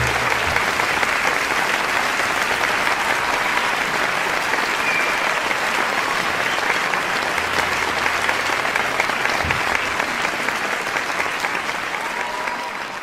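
A concert audience at a live tribute show applauds loudly and continuously, a thick, sustained wash of many hands clapping that holds steady for over ten seconds before tapering slightly at the end.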